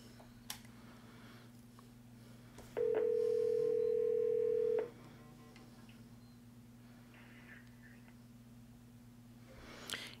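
A Fanvil X7C desk phone gives a steady, loud dial tone for about two seconds when the dial button is pressed. Quiet room hum and faint clicks surround it, and no one speaks.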